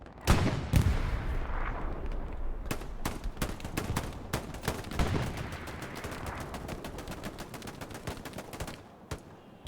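Machine gun fire in a competitive Hell Let Loose match, with sharp repeated bursts and single loud reports that crack out in quick succession over a rumbling battlefield backdrop, some shots close and others farther off.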